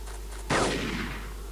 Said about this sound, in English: There's a guy shooting at my head.